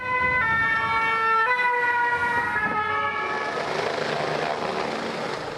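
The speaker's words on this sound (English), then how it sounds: "A stream of ambulances rushed to and from the chaos." An ambulance siren wails, sweeping up and down, loud and near, then gives way to a rushing roar like a passing vehicle or helicopter rotor.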